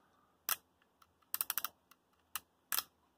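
Sharp mechanical clicks from a Kodak 35 camera's film advance, in small clusters: a single snap followed by a quick run of four or five clicks and two more later, against near silence.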